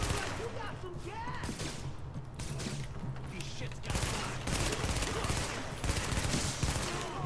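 Bursts of rapid gunfire in the video game The Division, loud and dense, repeating in volleys alongside game sound effects and a voice speaking.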